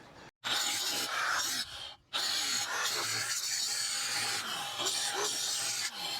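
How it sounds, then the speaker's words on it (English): A weld being cut on the bent jack of a dump trailer, a loud harsh continuous grinding hiss with two brief pauses, close and without talk. "So the object is to cut the weld as far away from the tube as possible, because I don't want to cut the tube."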